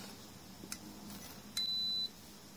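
An electrical socket tester being switched on at a socket on a ring circuit gives a single clear electronic beep of about half a second against a quiet room with faint clicks.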